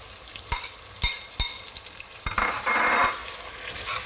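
Red and green peppers fry with prawns in a hot pan, a close, steady sizzle broken by sharp knocks and stirring scrapes against the pan.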